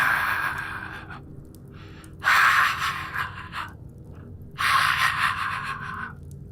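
A person's voice mimics a creepy, drawn-out raspy wheeze with an almost laughing quality, heard as two long breathy bursts separated by quieter breathing, close and fairly loud.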